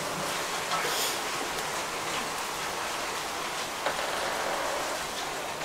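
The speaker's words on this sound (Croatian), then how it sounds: "Vidite, kiša, pljusak ogroman. Led pada trenutno." A heavy downpour with hail falls outdoors over a field, making a steady, dense hiss of rain that continues evenly throughout.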